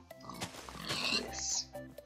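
Pig oinks from the video game Minecraft, a couple of short grunts surfacing under and between a man's speech along with faint game sounds.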